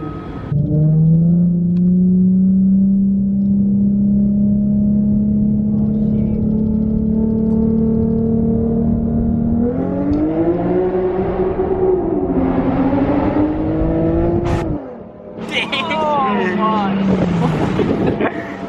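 A loud, raspy car exhaust with test pipes drones steadily, then revs up and down in rising surges, with wind noise buffeting throughout and a voice briefly talking over it.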